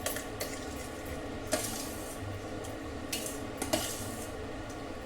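Cooked rice is mixed with cardamom powder and salt, with soft squishing and a few sharp clinks of a spoon against the vessel, close and quiet.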